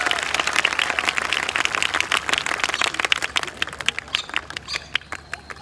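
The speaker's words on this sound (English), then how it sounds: "Let's give him a big giant round of applause." Outdoor audience applause at a Tennessee renaissance festival bird show: a dense burst of clapping that thins into scattered, separate claps toward the end.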